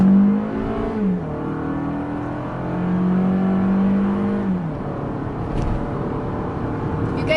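A 2020 Toyota RAV4 XLE engine revs loudly as it accelerates, pitch climbing then settling into a steady drone before a second surge, close and continuous.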